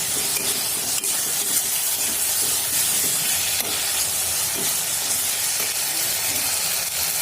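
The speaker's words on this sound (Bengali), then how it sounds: "দেখো কষানো হচ্ছে" Carrot halwa being sautéed in a pan with oil, producing a loud, steady hissing sizzle throughout with faint stirring scrapes and occasional small clicks, no voices.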